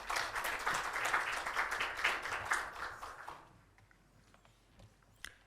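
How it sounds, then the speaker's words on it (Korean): A church worship congregation applauds to welcome a pastor, the clapping moderate for about three seconds before fading out into near quiet with a few stray claps. "목사님 나오실 때 한번 박수로 환영하겠습니다"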